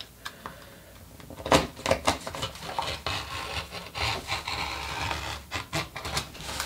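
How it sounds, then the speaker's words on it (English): Scissors snip through heavy denim, cutting the yoke off the back of a pair of jeans, with repeated close, crisp rasping cuts and rustling fabric and no talk. "now I'm going to cut the yoke off of there"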